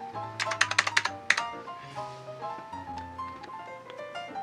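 A wired keyboard connected to an iPhone through an adapter is typed on, giving a quick run of close, crisp key clicks followed by a few scattered taps over a steady electronic tone.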